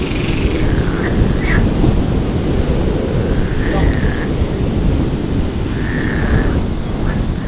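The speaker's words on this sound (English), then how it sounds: "Those noises you could hear with my shot in there were frogs chirping away" Frogs chirp in short, repeated calls over a loud, steady wash of wind and rain-like noise outdoors on a golf course at Verdura Resort.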